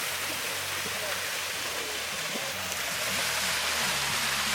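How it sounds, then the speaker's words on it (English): A waterfall roars in a steady, loud broadband wash, with a second fall nearby, the rushing water continuous and dense, while voices talk over it. "What a beautiful waterfall we got here."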